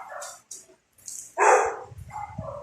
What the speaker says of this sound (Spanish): Disculpen tanto ruido, pero creo que los perros que hay por aquí por mi casa se alocaron un poco.